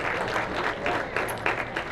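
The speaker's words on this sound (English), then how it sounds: "Have a big round of applause for our photographer and our videographer tonight" Audience at a youth awards dinner applauding the photographer and videographer, a dense, continuous wash of clapping from a roomful of people, fairly distant and steady throughout.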